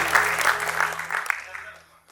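Audience applause at a charity musical show for cow welfare, a dense crowd clapping close by for about a second and a half before thinning and fading out.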